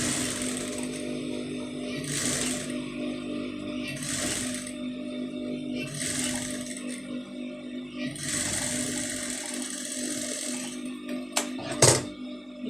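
A sewing machine stitches fabric for a neck design in several bursts of rapid whirring, each lasting about a second or two with short pauses between, close and moderately loud, ending with a couple of sharp clicks.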